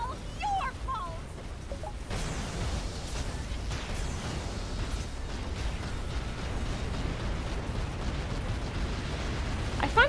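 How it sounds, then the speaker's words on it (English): A factory blows up in the video game Shantae: 1/2 Genie Hero, a sustained rumbling roar of explosions and bursts that swells and holds steady for about ten seconds, with sharp pops near the start and end. "My entire factory is going to explode!"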